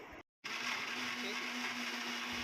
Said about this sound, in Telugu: చాక్లెట్స్ వేసిన తర్వాత కూడా మళ్ళీ మిక్సీ కొట్టా